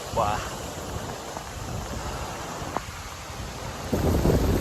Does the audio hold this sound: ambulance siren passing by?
no